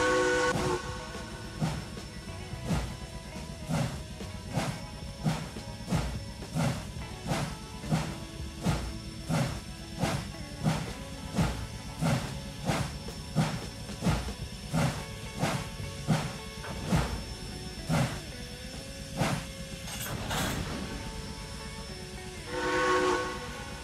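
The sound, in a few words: locomotive number 92 pulling out, video game Trainz 2019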